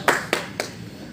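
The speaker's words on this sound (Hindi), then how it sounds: "तालियां मारिए, वाह वाह कीजिए" Three separate, sharp hand claps at an even pace in a lecture hall, fairly loud and close, the third slightly softer, with no talk between them.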